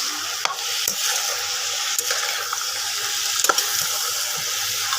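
Cabbage curry with cumin powder and sugar stirred in a pan, a soft continuous sizzle broken by several sharp spatula scrapes and clicks, close and without voices.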